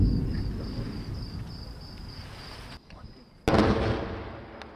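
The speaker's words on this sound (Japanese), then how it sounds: "未明のイスラエルとレバノンの国境付近で鳴り響く爆発音。" Explosions near the Israel–Lebanon border before dawn: a distant rumbling boom fades out, then after a brief lull a sharper, louder blast hits and rolls away, with faint chirping underneath.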